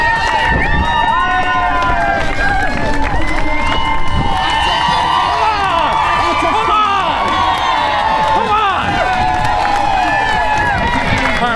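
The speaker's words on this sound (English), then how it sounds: "Cracking crowd, fantastic crowd" Crowd cheering and shouting for runners near the finish of the Dunsaughlin 10k road race, a steady loud roar with voices and some clapping throughout.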